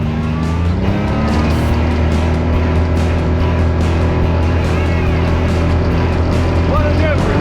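A Can-Am Maverick X3 side-by-side drives along with a loud, steady engine drone and shifting revs throughout, while people talk over it.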